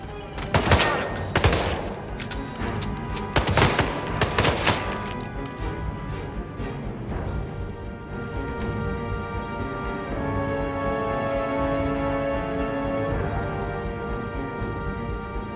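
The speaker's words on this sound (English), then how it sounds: "Those were gunshots!" Gunfire in the Hitman video game: sharp bursts of shots ring out close in the first half, then fade into a sustained musical drone and background game noise.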